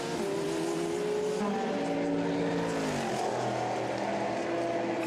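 Number 98 Aston Martin race car at Le Mans heading into the pits, a continuous engine drone with shifting harmonic tones that dip and fall away midway, steady and fairly close throughout.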